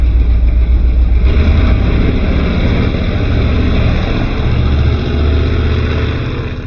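Barracuda drag car launching hard, a loud close engine roar with dense low rumble that holds steady, then eases slightly toward the end, with no voices.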